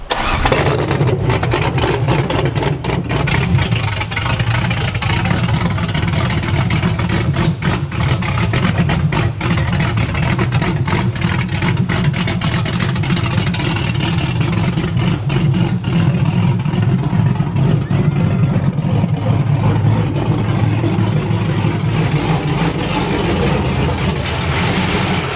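A V8-swapped BMW E36 starting up and revving hard while trying for a burnout, a loud, close, sustained engine roar with throttle surges throughout.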